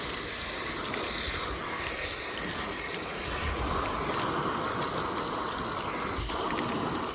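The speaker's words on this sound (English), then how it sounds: "then we'll come back and hose it with water" A garden hose sprays a steady broadband hiss of water against a 1970 Jayco pop-up camper during refurbishment, running continuously and fairly close without pauses.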